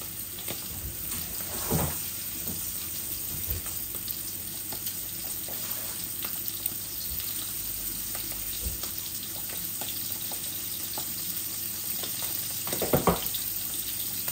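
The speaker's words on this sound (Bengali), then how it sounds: "মাছগুলো আস্তে আস্তে ভাজা হোক" Bacha fish fry gently in a pan with a continuous soft sizzle and scattered pops and crackles, plus a few louder bursts, heard fairly faint and close with no voices.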